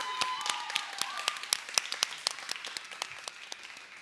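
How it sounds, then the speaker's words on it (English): Audience applause at a Kuchipudi dance recital, a sustained burst of many hands clapping with sharp individual claps standing out, steady and fairly close, with no talk over it. "so huge round of applause for them"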